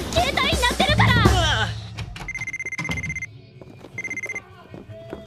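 A mobile phone rings in an indoor scene, its electronic ringtone repeating in two clear bursts of bright warbling tones after a person talks briefly at the start.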